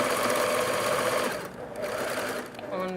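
Sewing machine stitching ribbing or banding onto the neckline of a T-shirt, a loud close rapid whir that dips briefly twice as the pace slows, with speech partly over it.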